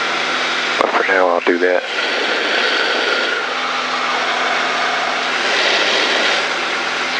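A light piston aircraft engine drones steadily in cruise climb after a power reduction to 25 inches manifold and 2500 RPM, heard from inside the cabin; a pilot's voice speaks briefly over the continuous hum near the start.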